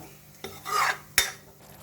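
Rajma masala spices and tomato roast in ghee as a spoon scrapes and stirs the pan in two distinct strokes, with a quiet sizzle between them.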